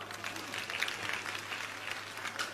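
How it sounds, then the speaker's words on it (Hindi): A room full of people clapping, steady and moderately distant, lasting a couple of seconds. "ताली बजाओ।"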